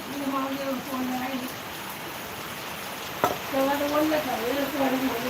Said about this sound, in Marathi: तर तो पाऊस चालू आहे जोराचा